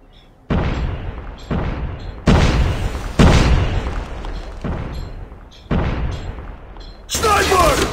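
Grenade explosions in COD Mobile, a mobile first-person shooter: a series of heavy, booming blasts go off one after another at irregular intervals, each with a short rumbling tail, loud and close.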